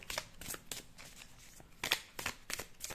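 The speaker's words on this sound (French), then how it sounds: "on peut tirer une ou deux cartes" Oracle cards are shuffled and drawn by hand, a quiet, close series of soft riffling and flicking bursts in an irregular rhythm with no talking.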